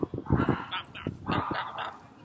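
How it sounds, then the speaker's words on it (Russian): Small dogs barking on a Sunday morning in Sanremo: a quick burst of sharp yips and barks close by, tumbling over one another with short gaps. "Так звучит Сан-Ремо «Воскресное утро», потому что все старушки вышли своими собачками"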